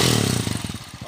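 A Motorstar TMX155 motorcycle upgraded to 200cc runs on a test drive, its engine loud and close with a steady, throbbing pulse that starts smooth and turns into choppier firing toward the end.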